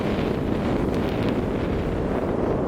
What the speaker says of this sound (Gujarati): અને પવન બી બહુ છે.